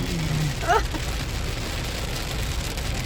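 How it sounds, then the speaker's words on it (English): Steady broadband hiss of rain, continuous and fairly loud throughout, with a brief low hum and a short chirping sound early on. "It's raining now."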